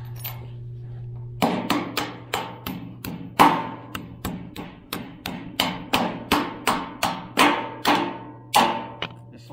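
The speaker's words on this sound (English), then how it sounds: "we should be able to go ahead and pound this into the hole" A metal anchor is pounded with a hammer into a drilled hole in a concrete pad to secure a Backyard Discovery pergola, giving about eighteen loud, close, evenly spaced hammer blows over a steady low hum.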